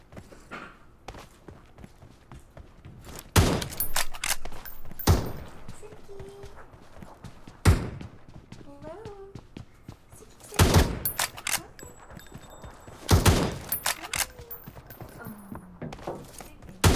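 Sniper rifle shots ring out in a close-range match of the mobile game PUBG Mobile, several loud sharp cracks spaced a few seconds apart with quieter footsteps and game sounds between them.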